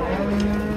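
A cow lowing at a busy cattle market, one loud, close, drawn-out moo filling the moment.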